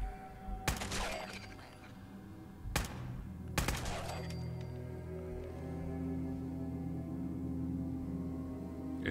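Gunfire from the Overseer's Guardian rifle in Fallout 4, three sharp, loud shots spaced about a second or two apart. Each shot leaves a brief ringing tail, and a low game ambience and music continue between and after the shots.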